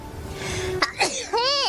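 A single sharp sneeze bursts out near the middle, followed by a high-pitched voice speaking briefly, against a faint background hum.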